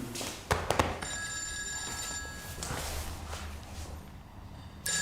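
An old-style telephone bell rings in a steady repeated trill across most of the clip, with a few thumps and footsteps nearby and no talking.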